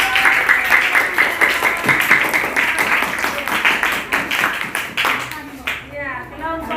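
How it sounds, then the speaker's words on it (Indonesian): Schoolchildren clapping together in a classroom, a dense rhythmic burst of hand claps that fades out toward the end, with voices and a few shouts mixed in. "Tepuk tangan."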